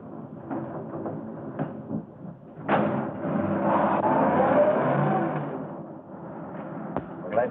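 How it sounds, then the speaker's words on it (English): A 1930s-era car engine turning over and pulling away, a rising rumble swelling after a few knocks and thumps, then fading, with faint voices underneath. "Start the car, Johnny."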